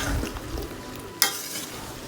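Cut raw mango pieces, about three kilograms, are gently stirred in a pan for pickle, soft scraping and shuffling with a sharp clink partway through, quiet and without talk.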